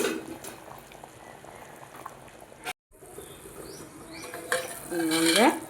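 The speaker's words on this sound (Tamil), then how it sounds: "அப்படியே சிம்மில் போட்டு இது ஒரு 10 நிமிஷத்துக்கு கொதிக்க வைங்க." Goat leg kurma simmering in a pot, soft bubbling and liquid burbles close by, with a brief clatter of cookware and a spoon stirring. A voice is heard faintly near the end.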